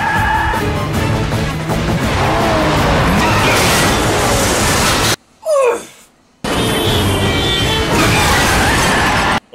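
Cars, including a V8 G-Wagon, slam into each other in a chase scene from The Bourne Supremacy: loud engine roar with metallic crunches and shattering, broken by a brief near-silent gap with a faint whine before the din returns.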